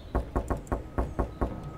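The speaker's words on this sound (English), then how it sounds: "Knocking on the doors." Knocking on doors in the video game Jazzpunk: seven sharp, evenly spaced knocks in a steady rhythm, close and fairly loud, with no talking.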